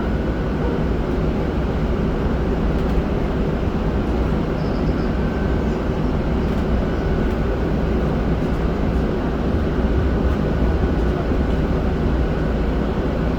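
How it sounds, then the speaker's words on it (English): A Los Angeles Metro A Line light rail train rolls along with a steady, loud rumble and hum heard from inside, continuous track noise with no talk over it. "This is a Metro A line train."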